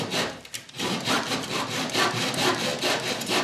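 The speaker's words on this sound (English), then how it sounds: "I'm going to use my dowel saw" A dowel saw trims protruding wooden ends with quick, rhythmic back-and-forth rasping strokes, close and steady after a short hesitant start, with no voices.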